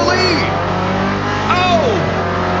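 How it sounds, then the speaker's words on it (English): Hot Wheels race cars revving at the start of a race in a video game, a loud continuous engine roar with rising and falling pitch sweeps, mixed with game audio. "Racers, start your engines!"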